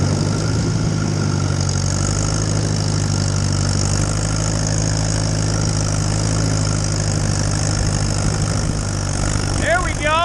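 An Allis Chalmers WD45 tractor engine runs steadily in fourth gear after a carburetor rebuild, a loud continuous low rumble with constant droning tones throughout, and a brief rising whine near the end.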